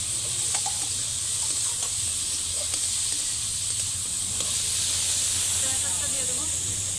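Chicken sizzling in a hot pan while making chicken chow mein, a steady close hiss of frying running throughout with faint clinks and stirring, low background hum and some voices in the room.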